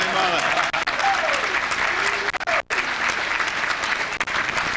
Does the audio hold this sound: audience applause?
yes